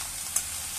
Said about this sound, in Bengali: ওটা নাড়িয়ে নেবো সবজিগুলো সব একসঙ্গে।